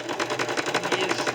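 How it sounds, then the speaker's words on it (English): A fast sewing machine stitches zigzag while braid is sewn onto rope for a rope bowl, giving a rapid, even mechanical chatter for just over a second. "This sewing machine is a little fast."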